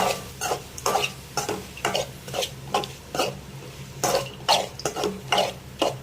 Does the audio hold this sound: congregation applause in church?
no